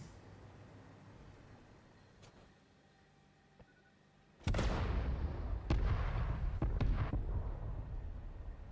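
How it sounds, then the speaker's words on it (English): A sudden cluster of loud booming blasts from cluster bombs in the factory-building video game Satisfactory erupts after a quiet stretch, followed by several more sharp detonations and a rumbling, crackling tail. "Cluster bombs are effective."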